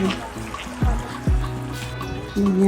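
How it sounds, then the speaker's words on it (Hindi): A river runs below a waterfall area, giving a continuous close trickling, rushing wash of water, with a few dull knocks and bumps nearby. "नीचे रिवर की साउंड आ रही है ना"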